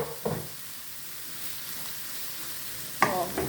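Carrot frying in a pan for farofa, a steady soft sizzle with a couple of sharper crackles and stirring clatters near the start and end, no voices.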